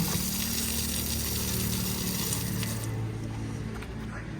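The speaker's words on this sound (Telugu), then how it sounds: "బండిలో వాటర్ అయిపోయినాయి, వాటర్ తీసుకుందామని వచ్చినాం." Water gushes steadily into a lorry's water supply tank, a loud continuous rushing flow with a low pump-like hum underneath, easing slightly toward the end.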